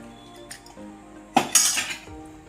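A spoon clinks and scrapes against a metal pot while gram flour mixed with water is stirred into puri curry, with a few quiet taps followed by a louder burst of clattering stirring near the end.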